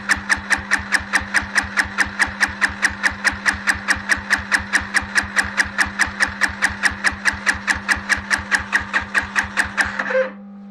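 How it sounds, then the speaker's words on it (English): A Chinese four-wheeler ATV with the choke on is cranked by its starter: about ten seconds of rapid, steady chugging pulses close by that never catch, then a sudden stop. "Choke is on, fuel petcock is on, and we'll try to start it."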